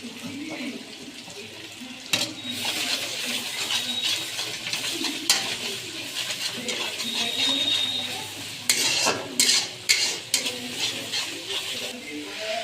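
Ginger-garlic paste stirred and fried in a pot for mutton curry, giving a steady sizzle with scraping and clattering spoon strikes against the pan, some of them sharp and loud, and faint voices now and then.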